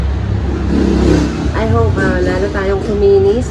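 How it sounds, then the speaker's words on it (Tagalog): Road traffic rushes past beside a highway, vehicles revving and passing close and loud in a continuous wash, while a person talks over the noise. "Maingay dito kasi tabing highway nga pala kami."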